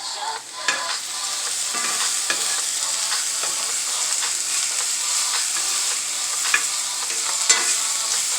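Vegetables sauteing in a hot skillet for salmon croquettes, a continuous sizzle and fry with occasional stirring scrapes and clicks, close and steady without any talk.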